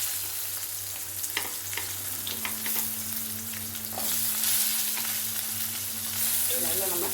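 Onion, ginger and garlic sauté in a pan while making masala chicken gravy, giving a steady, close sizzle with occasional stirring clicks and scrapes throughout.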